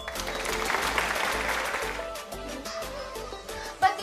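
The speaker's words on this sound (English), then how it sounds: "Please give them a round of applause." An audience applauds the participants at a school debate event, dense clapping for about two seconds that thins into scattered, quieter claps with some tonal background sound underneath.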